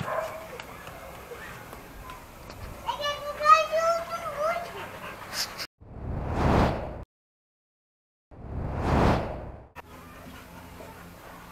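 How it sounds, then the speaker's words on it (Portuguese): Dogs, a pit bull and a Doberman among them, give a couple of loud, close barks after a few seconds of whining yips, with short silent gaps between the barks. "Não é porque os outros cachorros estão latindo que vocês vão latir"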